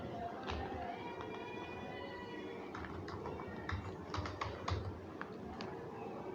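Soft, irregular typing on a computer keyboard while an admission form is filled in, with faint key clicks scattered over a quiet background hum.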